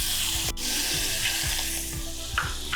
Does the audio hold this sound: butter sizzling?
yes